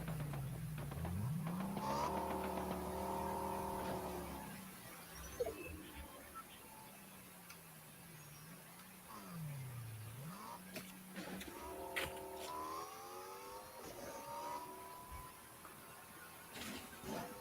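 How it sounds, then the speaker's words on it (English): A car driven in the Fortnite video game, its engine revving in rising and falling tones through several bursts, with short gaps and a moderate, steady background level. "get the car out of the situation here."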